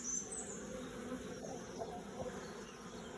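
Honey bees buzz steadily around an open hive during an inspection, a continuous close insect drone with faint higher whine, heard alone without talk.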